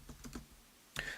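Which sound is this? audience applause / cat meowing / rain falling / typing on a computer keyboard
typing on a computer keyboard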